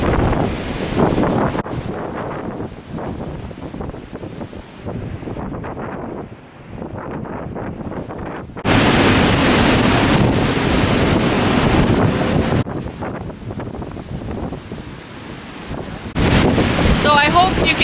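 Strong wind buffets the microphone by the sea on Boracay, a loud continuous rumble that surges and eases, with surf and a voice partly buried underneath.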